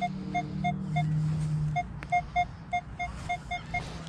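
A Minelab X-Terra Pro metal detector fitted with a small 6-inch coil sounds a short run of quick, repeated electronic beeps over a low steady hum, with a brief sharp click partway through.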